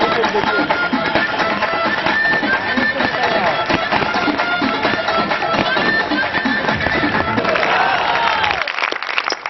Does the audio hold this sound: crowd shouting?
yes